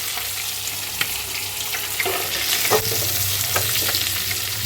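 Prawns fry in hot oil in a pan, giving a steady close sizzle with a few soft scrapes and clicks of turning, with no voices.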